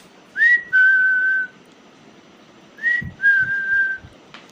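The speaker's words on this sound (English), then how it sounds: "Or we can blow a whistle," A whistle blown in two pairs: each pair is a short rising chirp followed by a longer steady tone. The pairs are separated by a brief pause, and a few faint low thumps sit underneath.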